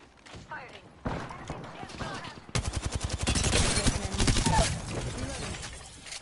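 Rapid bursts of gunfire in a shooter video game, starting sparse and then becoming a dense, loud stream of repeated shots with game effects mixed in, briefly under speech.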